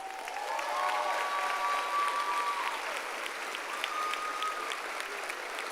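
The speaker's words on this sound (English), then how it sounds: "Give them a round of applause." Commencement audience applauding graduates of a health professions school, a steady wash of many hands clapping in a large hall, moderately distant and sustained, with a faint tonal whine running through it.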